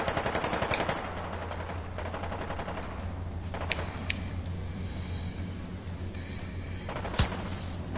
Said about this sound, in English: Somebody else shooting to the right of us.